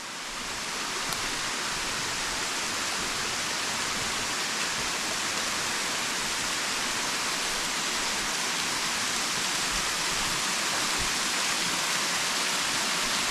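The Tat Kon waterfall in Xon district, Houaphanh, Laos, gives a steady, dense hiss of falling water that runs unbroken for more than ten seconds, with no voices.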